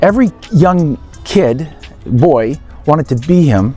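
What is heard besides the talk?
No everyday noises stand out.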